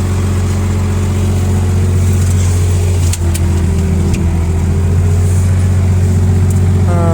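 A Komatsu 4.5-ton forklift's cold engine runs at idle, a deep, steady rumble with an even low drone, loud and close throughout, without speech.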